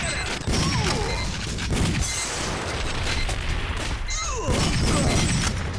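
A loud blast goes off in the arcade shooter Time Crisis, mixed with crashing debris and scattered gunfire, several heavy bursts spaced a couple of seconds apart.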